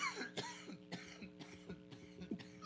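Several short, harsh coughs in a row, close and fairly loud, with brief breaths between them.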